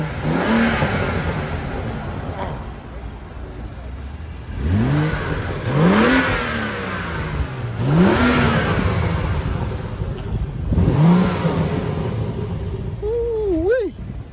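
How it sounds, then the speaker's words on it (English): A small car's engine revs four times in rising, falling sweeps over a steady idle, each burst loud and close with short pauses between. "You just rev it a little bit."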